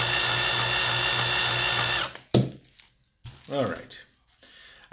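Power drill boring out a rivet on a chrome-plated plastic toy car, a steady whining buzz for about two seconds that stops abruptly, followed by scattered handling clicks and scraping.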